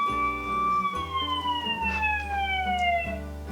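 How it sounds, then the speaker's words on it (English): A Dash toy robot plays a siren sound effect: clear, loud electronic wailing tones that slowly glide downward and repeat steadily, with no one talking. "siren."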